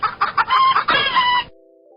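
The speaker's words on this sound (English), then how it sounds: "Just a really angry rooster." A gamecock-style rooster, likely played over a college basketball arena, lets out one loud harsh crow lasting about a second and a half, close and alone, then cuts off into a faint tone.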